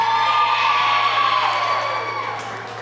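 Crowd cheering and whooping at a youth ninja obstacle competition, loud sustained shouts that slowly fade.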